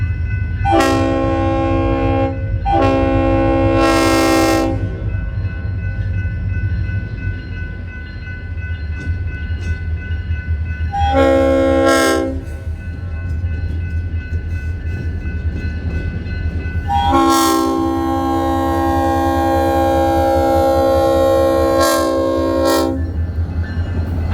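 A DeQueen and Eastern railroad GP40-2 locomotive in Broken Bow, Oklahoma sounds its horn in several long blasts, loud and near, with echoes over a steady engine rumble.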